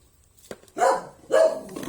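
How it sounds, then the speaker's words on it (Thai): A dog gives two short, close barks in quick succession, each a gruff, throaty burst, after a faint soft thump and near-silence. "อย่าเพิ่งเห่า"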